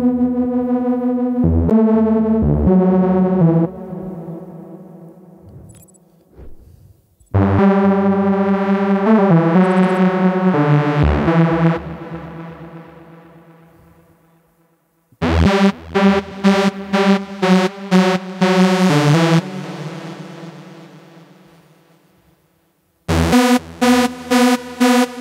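Synth lead phrases with a strong slow delay, wobbly wow pitch effect and high-pass filtering, played loud in several bursts with echoing repeats trailing off between them, no talking.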